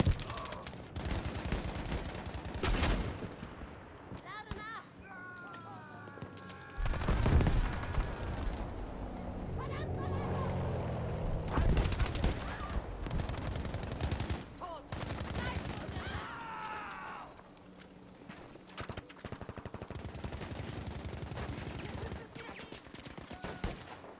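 Gunfire in Battlefield V multiplayer, scattered rifle shots and bursts with booming impacts and battlefield noise throughout, moderately loud with some distant rumbling.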